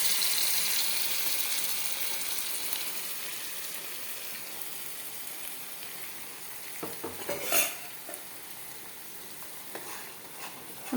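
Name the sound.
stirring mashed lentils into ghee in a hot pan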